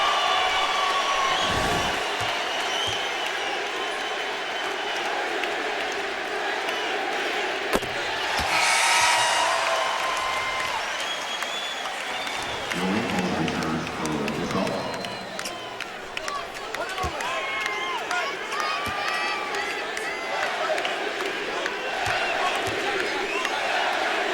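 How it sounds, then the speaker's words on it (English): A dense arena crowd at Staples Center roars steadily as Kobe Bryant steps to the free-throw line, sustained cheering and clapping with a brief surge of louder noise, broad and continuous throughout. "We'll let you listen to the crowd here at Staples as Kobe comes to the line"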